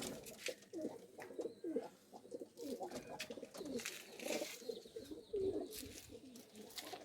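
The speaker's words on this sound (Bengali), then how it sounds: "এই কিছু বেবি পায়রা" Young pigeons in a loft of high-flying Madras pigeons coo in soft, overlapping murmurs close by, with a steady wash of background bird noise and no clear speech.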